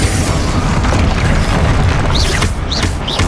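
Spell explosions in the Hogwarts Legacy video game, a loud, dense, rumbling boom that fills the whole stretch, with brief whooshing magical streaks near the end.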